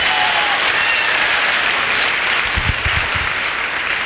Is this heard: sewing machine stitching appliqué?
no